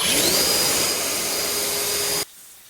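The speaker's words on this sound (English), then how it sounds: "if you do have access to a blower or something, I like using this. We're gonna blow out all the cracks and crevices." Air blower blasting out the cracks and crevices around a car headlight during a ceramic headlight restoration, a loud, steady, close-up rushing roar that cuts off abruptly near the end.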